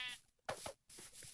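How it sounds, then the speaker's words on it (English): A sheep in a video game bleats in a couple of short, wavering calls, quiet and alone. "Let me kill a mama sheep."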